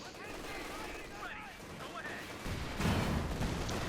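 Gunfire in the Company of Heroes 2 war game: a continuous crackle of rifle and machine-gun fire with a denser burst toward the end, heard under a steady wash of battle noise.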